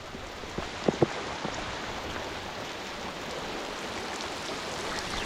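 Heavy rain pours steadily during a bass lure-fishing session in wind, a dense broadband hiss filling the whole stretch, with a couple of brief knocks near the start.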